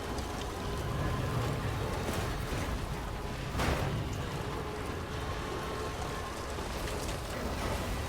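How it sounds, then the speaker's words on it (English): Steady rain falls in the video game Death Stranding 2, a dense, even hiss of drops on surfaces that continues throughout, with one brief louder gust or splash partway through. "Don't like this rain."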